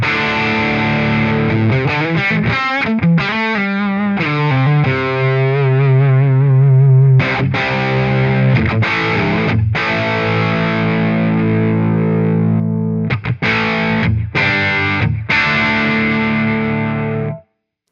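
Electric guitar through a Marshall JCM 900 amp simulation set to high power, loud and crunchy: chugging chords and sustained notes with several sharp stops and silences between phrases, continuous distortion throughout, then a sudden cut at the end.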